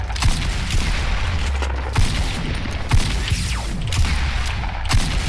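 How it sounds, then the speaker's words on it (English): Rapid bursts of gunfire in the Fortnite video game crackle steadily through the whole stretch, loud and close with repeated sharp shots and no talk over them. "None of my bullets are hitting."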